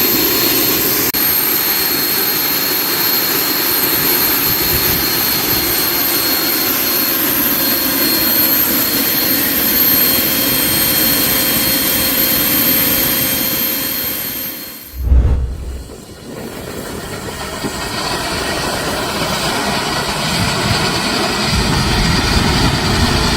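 A PIRNA 027 turbine engine starting: a loud, steady jet turbine roar with a high-pitched whine, briefly dipping with a low thump midway before the scream resumes.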